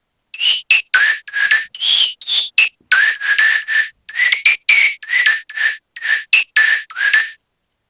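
Clean, bright synth whistles from an electronic music track play a quick sequence of short melodic notes, each a pure whistle-like tone with breathy onsets, heard alone and up front.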